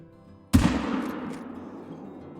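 A single 45-70 rifle shot fired at a red deer in a hunting video game: one loud, sharp blast followed by a long rolling echo that decays over about two seconds, with no talk.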